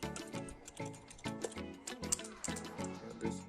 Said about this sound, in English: the keys noise are quite less as well, as you can see.